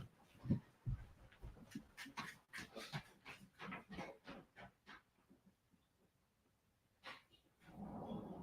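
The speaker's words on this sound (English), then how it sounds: "my dog is at the door to go outside to go to the bathroom" An almost 13-year-old dog waits at a house door to be let outside, giving a series of close, soft panting breaths and faint whimpers in quick rhythm, then a short pause and a brief rustle near the end.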